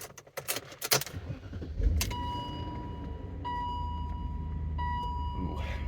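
Keys jangle and clatter in the ignition, then a BMW E39 M5 engine fires up after an ignition coil replacement and settles into a steady, even idle, with warning chimes sounding from the dash.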